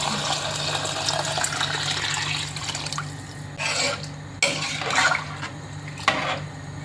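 Water poured into a pressure cooker holding rice and dal mixture for one-pot dal khichdi, a steady close gushing fill with a few brief splashy surges near the end, no voices.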